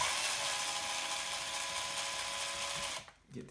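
A small power drill fitted with a 2mm bit backs screws out of a Team Corally 1/8 scale 7075 T6 aluminium RC car chassis, giving a steady, close, high whine for about three seconds before cutting off abruptly.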